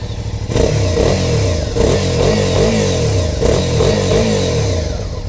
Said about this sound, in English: The stock exhaust is pretty big, and let's listen to the sound.